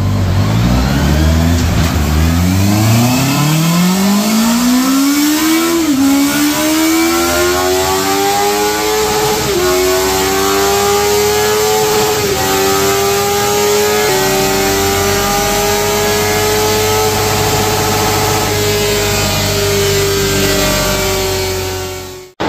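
A 2025 Honda CBR650R motorcycle engine revs hard on a dyno during a top-speed run in sixth gear, its loud, steady howl rising in pitch and then holding high with brief dips, sustained alone for the whole stretch.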